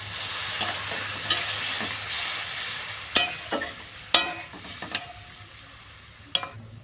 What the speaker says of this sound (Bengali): এরপর আবারও একটু নাড়িয়ে আমি জল দিয়ে দেবো, পরিমাণ অনুযায়ী আমি দিয়ে দিচ্ছি জল।